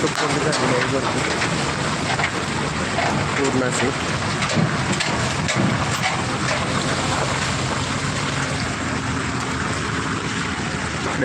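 First monsoon rain pours steadily on the Mumbai–Goa highway in Konkan, a dense continuous wash of rain mixed with traffic rumble, loud and unbroken throughout.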